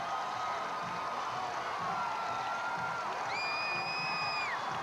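A baseball stadium crowd at Grove Stadium roars after a three-run walk-off home run in the bottom of the ninth. The cheering is a steady, dense wash throughout, with shrill whistles rising near the end.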